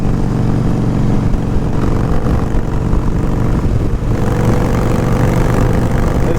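A sport bike's engine growls steadily and loudly as it is ridden, a continuous low, rough drone with no voices over it.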